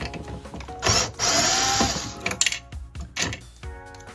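A magnetic screwdriver removes screws from the card reader of a Sam4s journal printer. There are short whirring bursts from a powered driver, clicks and ratcheting, and screws clatter nearby, with no talking.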